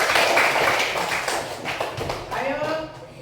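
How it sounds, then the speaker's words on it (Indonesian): Applause for group 4 in a classroom, a dense wash of many hands clapping steadily, loud and close, fading toward the end as a voice begins. "tepuk tangan untuk kelompok 4"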